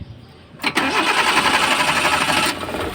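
A neglected, unmaintained car's engine cranks and catches after a brief click, then revs in a strained, uneven drone that never climbs to full revs, sounding close and loud before easing slightly.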